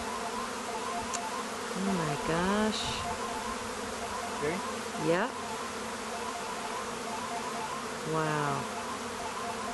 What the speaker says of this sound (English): if I'm very gentle and don't crush any bees